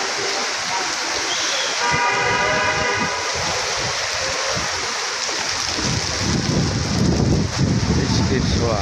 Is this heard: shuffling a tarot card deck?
no